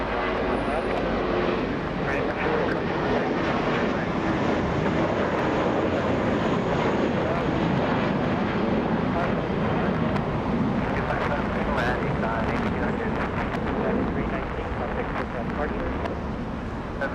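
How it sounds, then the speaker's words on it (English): Alaska and United airliners taxiing across the runway at Los Angeles International Airport, a continuous loud roar of jet engines and wind rumbling steadily throughout, with faint speech underneath. "Alaska and United both crossing the runway."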